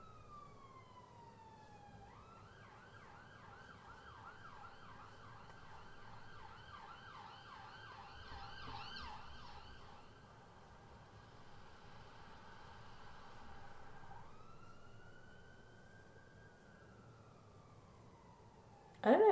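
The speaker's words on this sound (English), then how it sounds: "I don't know if that's the police or the ambulance" An emergency siren, police or ambulance, wails at a distance, its pitch sliding and then breaking into a rapid yelping warble before returning to a slow wail, faint and alone over low background hum.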